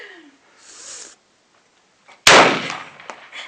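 A single sharp, loud gunshot from a Glock 21 pistol at an outdoor range, close by and followed by a brief decay, after quieter faint voices and rustling.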